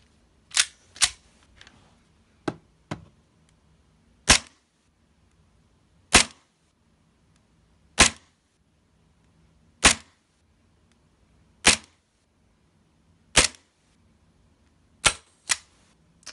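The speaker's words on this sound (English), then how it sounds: "Up next is the KWA M1911A1 GBB pistol, green gas." Sharp gas blowback shots from a KWA M1911A1 airsoft pistol running on green gas, about a dozen crisp cracks spaced one to two seconds apart, with a faint low hum between them and no talking.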